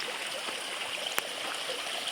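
Water flows steadily at a dam intake, a soft, even rushing and trickling heard from a short distance with no voices.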